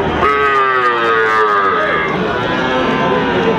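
Young bull calves, around three months old, moo at a cattle market in Dinajpur, a loud, close call that wavers and fades into busy crowd noise with no clear speech.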